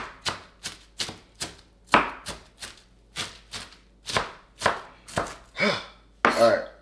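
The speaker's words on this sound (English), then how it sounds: "So we're gonna get just chopping the lettuce up." A knife chops lettuce on a cutting board in a steady run of about fifteen close, crisp strokes, each a sharp thud with a soft crunch.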